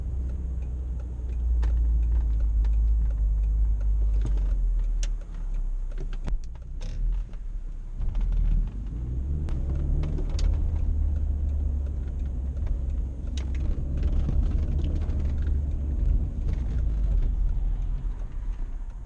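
Car creeping through slow traffic during brake bedding, a steady low engine and road rumble close inside the cabin, with occasional clicks and small thumps over the drone.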